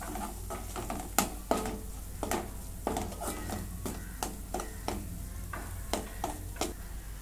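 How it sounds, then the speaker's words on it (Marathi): Coriander-cumin powder with turmeric and garam masala being sautéed in a pan for masala brinjal, a soft background sizzle broken by repeated scraping clinks of a spatula against the pan, no talking. "धने जिऱ्याची पावडर, आता जरा परतून घेते"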